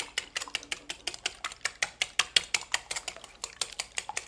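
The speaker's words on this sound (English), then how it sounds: "you really do need to really beat these eggs and get them well combined" Eggs are beaten in a bowl for a cauliflower pizza crust, with a fork or whisk clinking against the sides in a quick, steady rhythm of close, crisp taps.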